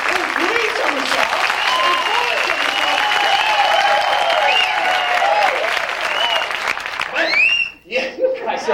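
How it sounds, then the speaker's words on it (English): An audience at a McDonald's circus show claps for performers, a full, even round of applause that tapers off toward the end, followed by a few brief voices and some chuckling. "so maybe just give them a little clap"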